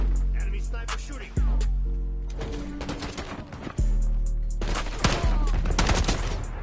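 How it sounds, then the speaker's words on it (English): Sniper fire and other gunshots ring out in a Call of Duty Black Ops 6 online match. Several sharp, loud reports come at irregular intervals, with echoing tails and game effects between them. "Enemy sniper shooting."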